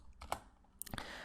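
A few quick key presses on a computer keyboard while coding in Python, scattered light clicks over about a second with a short burst near the end, quiet and close.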